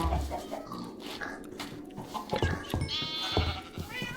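Sheep bleat repeatedly in the Minecraft video game, alongside other farm animal calls, several short nasal cries close by over a busy background.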